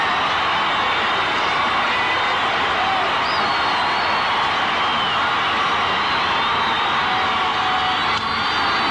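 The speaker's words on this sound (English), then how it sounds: "Crowd getting worked up." Baseball stadium crowd during a 1981 Athletics ALCS game, a dense, steady roar of many voices building with excitement and holding throughout without pause.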